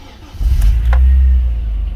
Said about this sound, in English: Let's go ahead and start it and listen to the engine